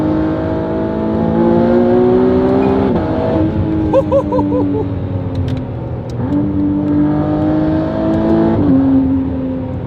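A McLaren Artura with a free-flow race exhaust revs hard through several gear changes, rising pitch then dropping at each shift, with crackles in between; loud and close.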